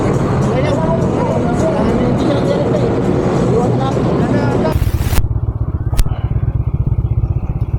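A motorcycle engine runs loud and close, first as a rough, busy roar. It then changes to a steady, pulsing putter after a sharp scrape and click, then another brief click.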